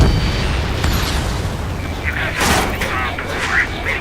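A missile blast in the combat flight game Skies Unknown: a broad, rumbling explosion with a sharp burst around the midpoint, over dense battle noise and game voices.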